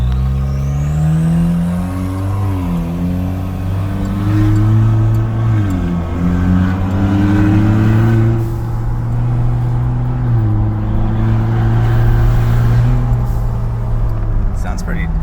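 Engine of a Chevy Silverado truck with the 2.7L Turbomax and Y pipe into 3-inch dual side exhaust drones loud and close during driving, its low pitch swelling and dipping as the revs change.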